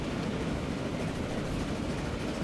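Steam train running in the game Transport Fever, climbing a hill at moderate speed, giving a steady low rumbling drone with no voices.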